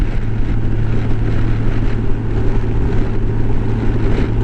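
A motorcycle cruises at around 2300 RPM, its steady low engine drone buried under loud, continuous wind rush over the microphone, with no talking.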